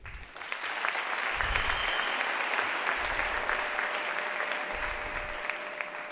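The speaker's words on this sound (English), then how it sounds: "can we actually give a round of applause for these two women?" An audience at an International Women's Day lecture and panel gives a sustained round of applause, many hands clapping evenly and fairly loud throughout, without voices standing out.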